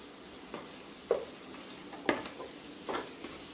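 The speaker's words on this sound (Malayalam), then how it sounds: "ഇനി നല്ലപോലെ ഒന്ന് ഇളക്കി യോജിപ്പിക്കുന്നു" A spoon stirs spiced chicken roast masala in a frying pan, giving three or four short, separate scraping strokes spaced about a second apart over a faint, steady background hiss.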